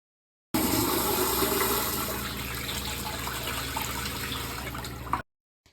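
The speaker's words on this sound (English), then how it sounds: "The high-pressure water flow ensures efficient, clog-free flushing, just using the right amount of water every single time." A Horow T38 smart toilet flushes with a loud high-pressure rush of water that starts abruptly, holds steady for several seconds, then cuts off cleanly, heard close and alone.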